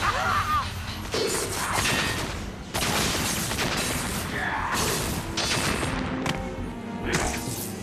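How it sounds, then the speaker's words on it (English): Heavy smashing and crashing fill a lab in Metal Gear Solid: The Twin Snakes, with loud continuous impacts, breaking debris and gunfire-like bursts, with a voice mixed in. "And he smashes up the entire lab."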